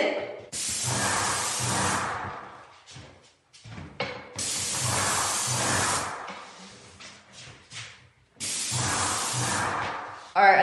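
Paint sprayer spraying white paint onto a ceiling with the pressure set slightly too high, giving three long, loud hissing bursts separated by short pauses filled with quieter handling noise and brief talk.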